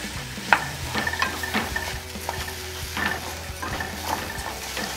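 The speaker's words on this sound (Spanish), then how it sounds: "vamos a moverlo para hacer como que se tueste un poco el arroz" Rice is stirred and toasted in a hot pan with garlic, onion, celery and oil for a mushroom risotto, sizzling steadily while a spoon scrapes and clicks in irregular strokes close by.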